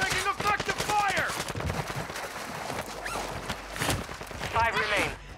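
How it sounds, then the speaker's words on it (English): Bursts of rapid gunfire in the Warzone 2.0 video game, fast repeated shots in several volleys, mixed with footsteps and voices talking over the action. "Taking effective fire."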